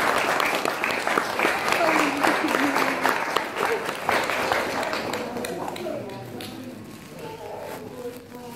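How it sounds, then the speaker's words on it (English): Wedding reception guests applaud loudly at first, the clapping tapering off gradually over several seconds as voices murmur underneath. "Nice round of applause, ladies and gentlemen."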